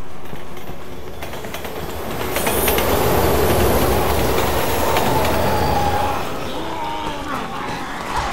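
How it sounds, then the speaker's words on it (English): A train roars past in the Resident Evil 6 video game: loud rumbling and rattling wheels swell to a peak in the middle, then fade, and a high metallic squeal rises near the end. "Look out! Train!"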